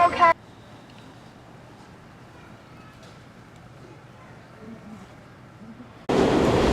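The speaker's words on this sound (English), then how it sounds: "We're on Subway and we're going to our next stop" Low, steady rumble of a New York City subway train riding along, with a brief louder burst at the start and end, no voices.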